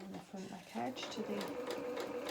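A sewing machine stitches a small doll-sized hedgehog jacket in short runs of rapid whirring, with someone talking over it.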